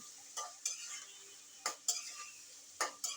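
Chicken meat being mixed by hand for a curry with potatoes, heard as a few soft wet squelches and slaps spaced irregularly against near silence.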